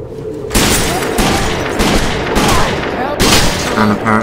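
Heavy bursts of rapid automatic gunshots from Rainbow Six Vegas 2 hammer loudly in several sustained volleys, with a quieter gap at the start and faint talk mixed underneath.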